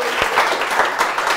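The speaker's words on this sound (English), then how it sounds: "A round of applause for them." Audience applause on a quiz show, a short dense burst of clapping from the crowd, steady and fairly loud for just over a second.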